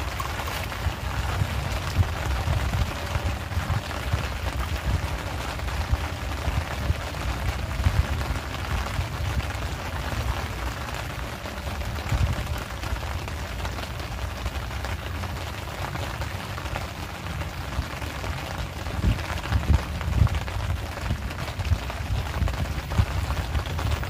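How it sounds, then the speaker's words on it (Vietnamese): Heavy rain falls steadily on a lake, heard from a fishing spot out in the middle of the water as a dense, constant hiss with no break. "Mưa quá các bạn ơi, chịu không nổi."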